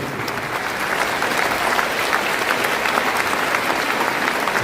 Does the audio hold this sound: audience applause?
yes